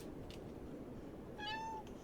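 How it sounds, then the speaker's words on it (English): A plump pet house cat meows once, a clear drawn-out call rising out of steady room noise, close by with no talking. "my cat right here came to join us."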